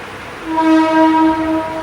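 A local commuter train passes nearby, sounding a loud sustained horn over rumbling rail noise, with no talk.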